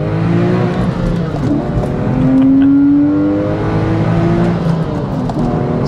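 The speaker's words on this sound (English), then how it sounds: "you get that iconic Porsche flat six scream" A Porsche 911 997 Carrera 2S with a manual gearbox and flat six engine revs loudly and close, its steady harmonic drone rising in pitch as it pulls through the gear, with no talking.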